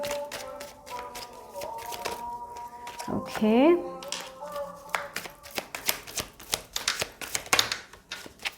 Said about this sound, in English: I will shuffle from that also, and then we will see.